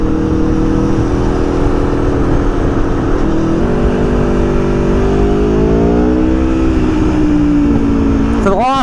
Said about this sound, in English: the flame-throwing Aprilia Tuono V4 factory crosses the harbour bridge.